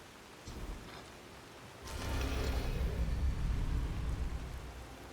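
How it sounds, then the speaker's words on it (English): Steady rain falls in Riften, a city in the video game Skyrim, a moderate hiss that swells heavier partway through and keeps up with no talking over it. "It's always raining in Riften."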